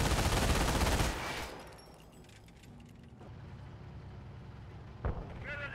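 A dense burst of gunfire roars up close in a Company of Heroes battle at a base, then falls away to low rumbling, with one more sharp shot near the end.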